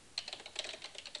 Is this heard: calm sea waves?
no